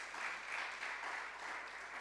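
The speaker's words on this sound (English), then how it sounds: "Baptist High School, a round of applause" Applause from an audience at a secondary school debate competition, a steady, dense wash of many hands clapping that holds evenly throughout without voices.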